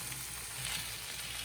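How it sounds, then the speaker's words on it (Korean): Onion and julienned potato stir-fry in hot oil with a steady, close sizzle and crackle for a short moment, no voices over it. "기름에 양파 먼저 볶아주고 감자채 넣고 볶아줬어요."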